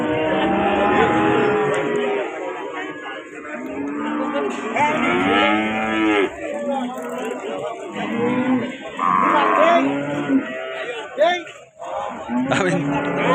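Cattle moo repeatedly at a cattle market, loud and close, with several drawn-out calls among a murmur of people talking nearby.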